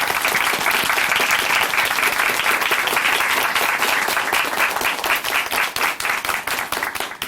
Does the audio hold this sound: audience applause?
yes